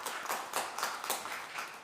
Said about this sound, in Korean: 박수로 해주세요.